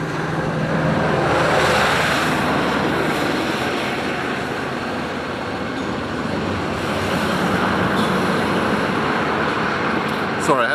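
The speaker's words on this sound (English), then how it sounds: "Sorry, I had to wait for a couple of big trucks to go by there." Heavy road traffic rumbles steadily throughout, a broad continuous roar of big trucks passing close by outdoors, swelling slightly and staying loud for the whole stretch.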